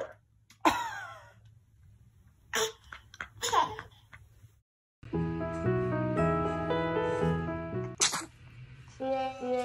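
A baby sneezes several times in quick succession, close and loud, followed by a stretch of bright toy-like music or tones, with a brief voice in the mix.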